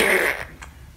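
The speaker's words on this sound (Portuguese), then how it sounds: "era só pum?" A six-month-old baby girl passes gas in one short, sputtering burst at the start, close and fairly loud, then trailing off into quiet room noise.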